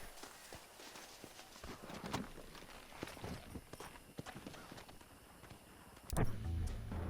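Hooves clip-clop at a steady walking pace from a horse in the video game Red Dead Redemption, fairly quiet, ending in a louder thud and rumble near the close, with no talking.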